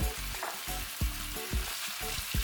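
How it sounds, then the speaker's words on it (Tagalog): Marinated pork belly sizzles and fries in a pan, with a steady crackling hiss broken by several sharp stirring knocks about every half second. "At ginigisa ko lang yan hanggang sa maging light brown na yung kulay ng outer part ng liempo."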